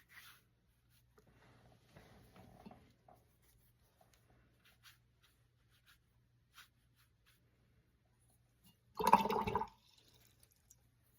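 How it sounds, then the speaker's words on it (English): A watercolour paintbrush is swished and rinsed in a water jar, a short splashy burst of about a second, fairly close, after quiet scratchy brushwork on paper. "Giving my brush a good clean."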